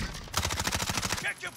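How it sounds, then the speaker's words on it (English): Automatic gunfire in the video game Modern Warfare rattles out in a fast burst of rapid shots over about a second, loud and close, ending in a brief pause. "Shooting at you, Jose."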